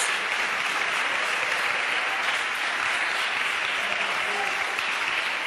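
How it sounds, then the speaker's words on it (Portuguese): A church congregation applauds in a steady, dense wash of clapping from many people, sustained at an even loudness without pause. "Aplaude ele mais, vai. Aplaude mais, vai."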